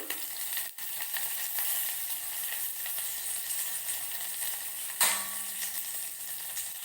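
Curry leaves fry in hot oil in a pan, giving a quiet, continuous sizzle with faint stirring and one sharp clink of a utensil partway through.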